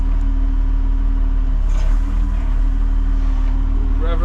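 Farm machinery engine used for hay work, running as a steady low drone with a faint rise in pitch partway through, loud and close with no talk over it.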